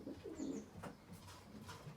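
Racing pigeons, a mix of this year's young birds and older birds, coo softly in a loft, with low throaty murmurs rising and falling steadily throughout.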